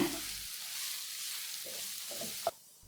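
Masala spice powders, including Kashmiri chilli powder, sautéing in a pan for chicken roast, a quiet sizzle with a few soft stirring scrapes and a brief clink near the end.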